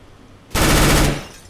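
Gunfire in Counter-Strike: Global Offensive: a sudden loud, close burst of rapid automatic shots lasting about half a second before trailing off, with no talk over it.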